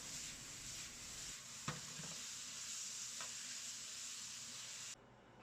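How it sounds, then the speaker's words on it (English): Food stir-fried in a hot pan with steaks added back in, a steady close sizzle and hiss running throughout with a couple of brief scraping clinks, cutting off sharply near the end. "Do the final stir fry for another 30 seconds and the dish is ready."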